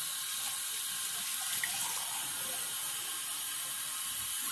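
Warm water runs steadily from a tap to lather triple-milled shaving soap, a continuous even hiss of flowing water with no voices over it.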